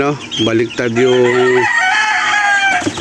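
Chickens and young chicks at a poultry farm: a rooster crows loudly up close amid clucking hens and high peeping chicks, with a voice briefly audible.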